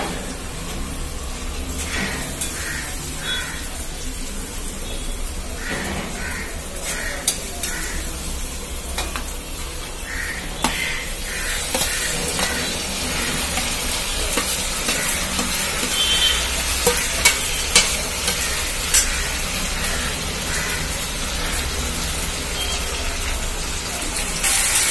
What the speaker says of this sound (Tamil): வதக்கிட்டேன், வெங்காயம் பொன் நேரமா வதங்கிருச்சு.